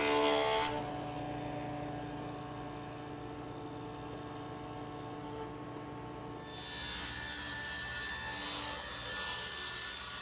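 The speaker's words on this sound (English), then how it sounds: "I flip the board over and cut more dados for the desired length" A power saw cutting dados across a wooden board, heard as a steady, fairly loud droning whine with a grinding edge that shifts in pitch partway through, with no talk.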